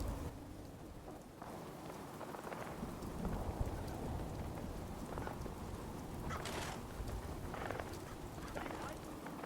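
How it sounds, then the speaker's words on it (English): Steady rain patters throughout a Fallout 4 Sim Settlements 2 battle, a continuous wash of noise with faint rumbles, while a voice talks over it. "Unfortunately, it decided to rain for this battle"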